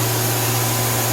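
A Tsugami S206 CNC Swiss lathe spindle runs at 7,000 RPM, a steady, even whirring hum with a constant airy hiss, continuous and close, no talk.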